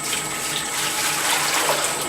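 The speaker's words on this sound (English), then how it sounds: "You get a bucket full of clean water and you can start pouring into the hopper." Clean water from a bucket pours steadily into the hopper of a soft-serve ice cream machine, a continuous close splashing rush with no talk.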